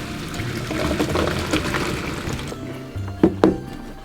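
Water pours out of cooked pasta in a steady gushing stream, close by, ending with a couple of sharp knocks of a pot or colander.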